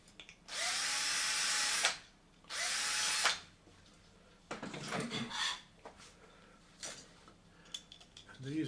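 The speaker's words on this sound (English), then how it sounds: "1/8 drill." Power drill with a 1/8 inch bit clearing a bolt hole through a printed part, two loud sustained whirring bursts followed by quieter intermittent buzzing and clicks, close up with no talk.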